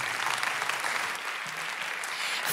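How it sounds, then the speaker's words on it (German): A church congregation applauds steadily during a worship service, a dense, even wash of clapping from many hands held at a constant level throughout. "wo wir dem Heiligen Geist einen Applaus geben können"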